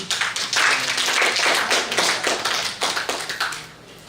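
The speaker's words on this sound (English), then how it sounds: "A round of applause." An audience at a judicial mediation skills session applauds a presiding judge from Naga City, Philippines, with a burst of many hands clapping close and steadily for about four seconds before fading out.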